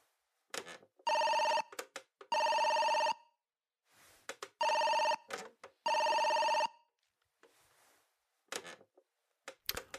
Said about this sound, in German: Eines der Telefone klingelte.